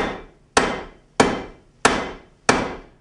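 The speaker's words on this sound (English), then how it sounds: "Let's see if I can break with a hammer the AAC block." Hammer striking an autoclaved aerated concrete (AAC) block, five sharp, loud blows at a steady pace of about one every two-thirds of a second, each a hard crack that fades quickly, with no talking.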